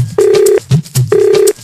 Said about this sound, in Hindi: कंप्यूटर जी, मुरारी गुप्ता जी को फोन लगाया जाए बेमेतरा में।